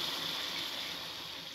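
Water pours steadily into a pot of chicken biryani, a continuous, fairly soft gushing wash that holds level for a couple of seconds with no talk over it.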